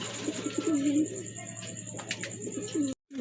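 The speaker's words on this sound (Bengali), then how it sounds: "কবুতরগুলো কিন্তু মাশাল্লাহ ফুল ফ্রেশ আর একদম অ্যাক্টিভ কবুতর" Pigeons offered for sale coo in low, throaty rolls close by, with repeated calls and faint background voices.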